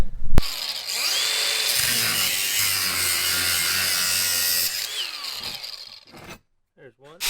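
A power saw cuts through the steel frame of a Toyota build, a loud continuous abrasive whine lasting several seconds before it stops and a few brief clanks follow.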